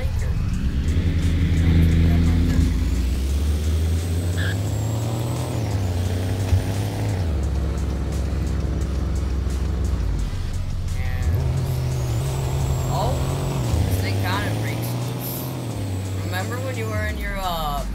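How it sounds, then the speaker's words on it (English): A remote-started fifth-generation truck engine drones and shifts pitch as it drives off in the Roblox game Greenville, revving up and settling in steady waves under ongoing voices. "Alright, I'm gonna remote start the 5th gen."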